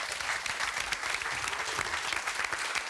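A studio audience at a quiz show bursts into sustained applause, with dense, even clapping filling the whole moment at a strong, steady level.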